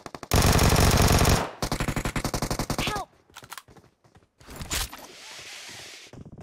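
Gunfire in the mobile game PUBG Mobile: a long rapid automatic burst, then a second rattling burst of evenly spaced shots, followed by scattered single shots and brief clatter, loud and close.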